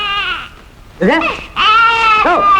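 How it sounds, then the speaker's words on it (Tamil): An infant cries loudly and close by in a Tamil film scene: a short whine, then two strong wailing bursts with rising and falling pitch. "என்ன குழந்தை அழுகுது"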